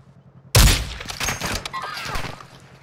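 Video game gunfire in Call of Duty: a sudden loud burst of shots erupts after a quiet start, followed by a rapid, uneven run of further shots and impacts.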